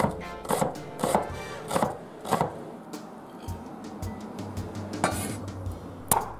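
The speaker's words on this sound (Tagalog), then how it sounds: "Para sa sauce, i-chop ang onion," Onion being chopped on a cutting board for a Filipino vinegar garlic sauce, a series of sharp knife strikes in irregular bursts, close and clear with no talking.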